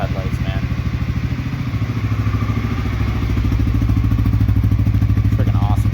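A 2020 CFORCE 600 ATV engine runs close by with a steady, pulsing idle that grows slightly louder and rougher partway through, and some clatter rides on top.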